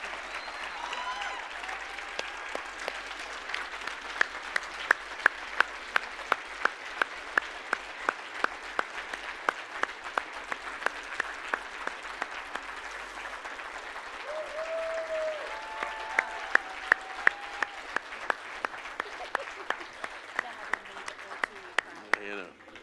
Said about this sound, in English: one last time with a round of applause, will you let this couple know how much you love and appreciate their ministry here?